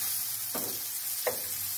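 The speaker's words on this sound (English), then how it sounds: "The cheese, you guys can see, is starting to fry." Steady crackling sizzle of cheese frying in a pan, with two soft thuds or scrapes and a faint low hum underneath.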